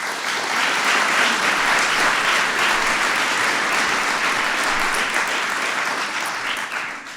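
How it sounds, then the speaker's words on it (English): Big, loud applause from an audience at the White House for the WNBA champion Minnesota Lynx, a thick continuous roar of clapping that holds steady and eases slightly toward the end. "we want to give him a big round of applause"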